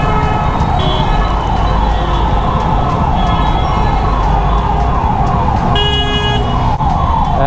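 A siren wails in repeated rising and falling sweeps over dense, loud traffic rumble, with a horn-like blast cutting in near the end.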